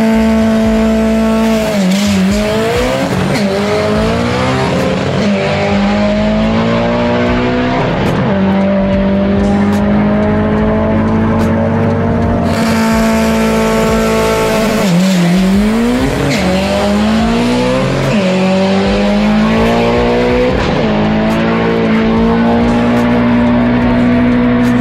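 A Subaru race car with a stock engine drives hard, its engine note loud and continuous with rising and falling revs, and tires squeal in swooping slides around the middle and later.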